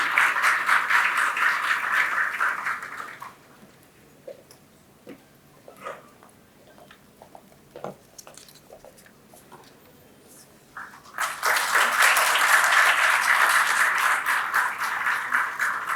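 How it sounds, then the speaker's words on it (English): An audience at an orientation and induction program claps in a dense burst, then falls nearly quiet with a few scattered claps and small sounds before a second full round of applause swells up again and carries on. "A huge round of applause for ma'am."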